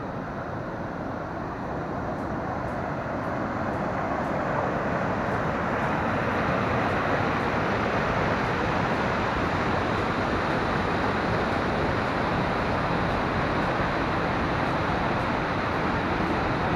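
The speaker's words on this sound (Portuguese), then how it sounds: "E a cachoeira." Waterfall roaring steadily beside the ruins of an old mill in western Santa Catarina, a dense, constant rush of falling water that stays loud and unbroken throughout.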